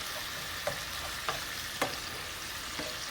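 Meat and vegetables for dirty rice fry in a pan with a steady, close sizzle, broken by a few sharp scraping stirs of a spoon, and no one talking.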